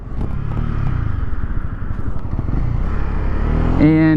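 A 2020 Honda CB300R motorcycle engine runs while riding, giving a continuous close rumble with wind noise and a rise in pitch near the end, under someone talking.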